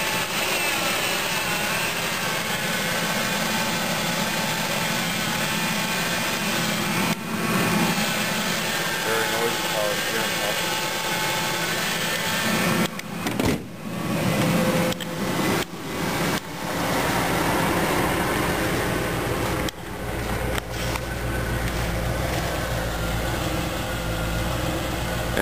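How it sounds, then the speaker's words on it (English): An old car's engine idles roughly and its revs drift up and down, a continuous close drone broken by several brief dropouts. "you can hear that the engine, it's idling a little rough. It's constantly going up and down"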